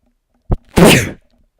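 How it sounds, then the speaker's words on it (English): One person sneezes once, loud and close, with a quick sharp intake followed by the explosive burst. Silence surrounds it. "you heard that sneeze"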